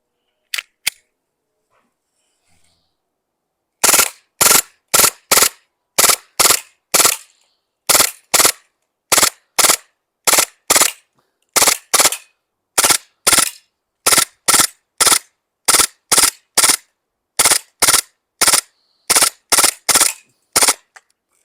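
Glock 18C airsoft pistol firing on full auto with .30 BBs, two quick single shots followed by a long run of sharp, evenly spaced snapping reports, loud and close with no talking.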